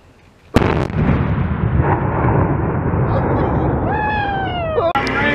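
A Marine training range explosive detonation, a sudden loud close blast followed by a long rumbling decay, with a voice speaking in a rising whine near the end and a sharp click-like burst just after.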